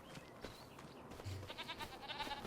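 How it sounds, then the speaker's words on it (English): Goats bleating in the farming video game Farming Simulator 25: a few faint, wavering bleats rise late in a short stretch over a quiet, noisy farmyard background. "How are the goats doing?"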